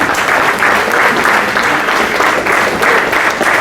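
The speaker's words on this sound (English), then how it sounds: "Can we have a round of applause for them?" Audience applause for winning teams at a consulting competition conclave at XLRI Jamshedpur, a loud, steady wash of many hands clapping together, sustained and dense throughout with no voices standing out.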